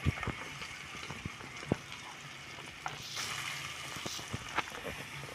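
Chopped onions frying in hot oil and butter in a pan for pav bhaji, a soft steady sizzle punctuated by scattered clicks and scrapes of stirring, fairly quiet and close.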